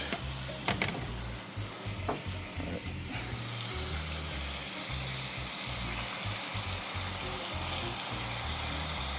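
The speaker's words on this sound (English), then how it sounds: "we're going to pour this back into the pot and cap it" Pork belly juices poured back into a hot pot, a brief liquid splash then loud continuous sizzling and frying, close and steady with no voices.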